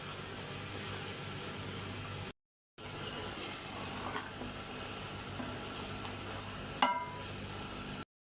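Food lightly fries in a pan in a home kitchen, a soft, steady sizzle that runs nearly throughout with a short gap and one brief clatter near the end.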